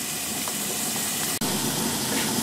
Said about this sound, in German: Deckel drauf und 2 Minuten mal richtig von einer Seite anbraten lassen.